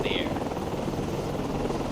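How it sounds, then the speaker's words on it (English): A helicopter launching from a ship in the naval video game Cold Waters, heard as a steady loud rotor drone that runs throughout under speech. "Gonna send out our helicopter anyway."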